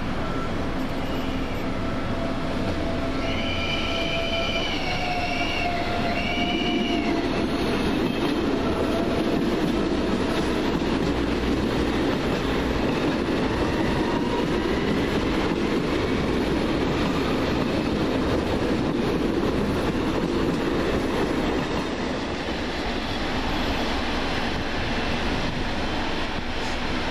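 A train rumbles into platform 2 at München Hackerbrücke station with a broad roar, brief high squealing brakes early on, and continuous rolling noise throughout.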